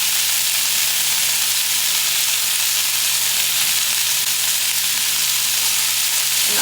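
Vegetables sizzling in a pan on medium-high heat, a loud, dense, even hiss that holds steady throughout, close and uninterrupted, with no voices.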